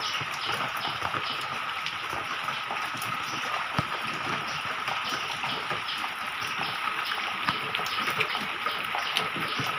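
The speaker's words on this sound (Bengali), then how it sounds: "আজকে দেখতেছি সকাল থেকে একটু ভালোই বৃষ্টি পড়তেছে" Rain falls steadily, a constant hiss with scattered drips and taps nearby, moderately loud and unbroken by speech.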